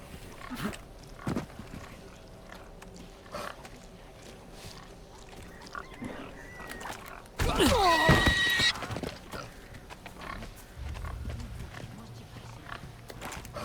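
A pig in the Resident Evil 4 video game lets out a loud, squealing oink lasting about a second, rising sharply above quieter game sounds and background noise.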